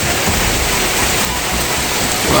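Heavy rain pours down steadily at a mountain base camp, a dense, continuous roar of water close by with no break and no voices.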